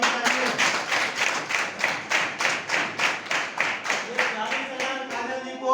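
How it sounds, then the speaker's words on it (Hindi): A room full of people at an Indian business plan meeting clapping together in a strong, regular rhythm, loud unified beats repeating steadily about twice a second with no talk over them. "जोरदार तालियां होनी चाहिए।"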